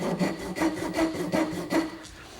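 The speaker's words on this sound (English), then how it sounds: "I'm going to use my dovetail saw just to cut a slight recess" A dovetail saw cuts a shallow recess into a square piece of wood stock, about five quick rhythmic rasping strokes heard up close.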